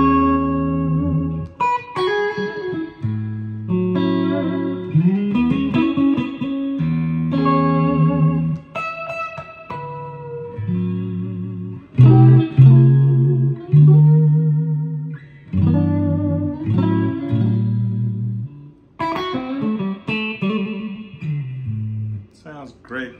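A Fender Stratocaster electric guitar, bought cheaply from a thrift store, played through its other pickups: clear picked notes and ringing chords in loose phrases with pauses between, close and fairly loud, with no talk over the playing.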